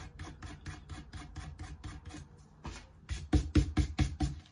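A finger or cloth rubs away leaked glue on a paper greeting card, a steady run of quick, rhythmic scraping strokes that turn louder and firmer toward the end, close up with no talking.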